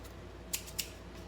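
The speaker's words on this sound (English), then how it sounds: "I'm going to go ahead and cut right along that template line" Scissors snipping through material along a traced template line while making a drop mold for ceramic plates, two short crisp cuts close by against a quiet room.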